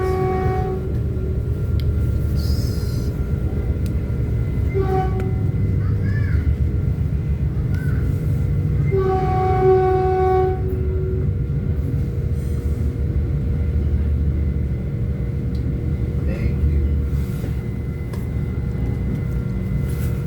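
Train rumbling past under steady low-frequency roar, with a few short horn blasts sounding over the noise, heard from inside a moving commuter train near Burlingame High School; loud and continuous throughout.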